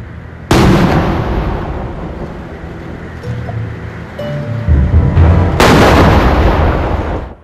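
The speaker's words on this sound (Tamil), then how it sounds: "21 பீரங்கி வேட்டுக்கள் தீர்க்கப்பட்டு முப்படையினர் ஜனாதிபதிக்கு மரியாதை செலுத்தினர்" Ceremonial cannon fire from a 21-gun salute by the armed forces for the president at a Sri Lankan independence day ceremony: two heavy, loud booms several seconds apart, each followed by a rolling rumble, with outdoor ambience between them.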